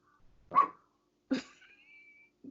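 Two quiet barks from a dog, followed by a faint high whine and a short soft sound at the end, with no one speaking.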